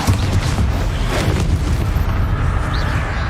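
Casting the Stupefy spell in the video game Hogwarts Legacy gives a loud, continuous, boomy rumble with a dense blast-like roar that holds steady for about three seconds, with no voices.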